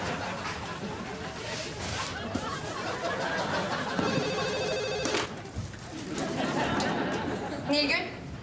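A standard landline telephone rings twice in bursts over a loud, chaotic household scene, with people shouting and arguing throughout.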